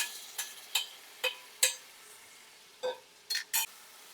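Onion tipped into a pan with whole spices and bay leaves and stirred, giving a handful of sharp close scrapes and clinks of a spoon against metal in uneven bursts over a faint low sizzle, no talking.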